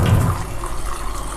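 Lentils being rinsed in clean water give a brief close sloshing, splashing sound, strongest at the start and then fading into softer trickling.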